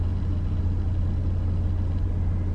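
Truck passing very close, a heavy continuous low engine rumble, loud and steady throughout.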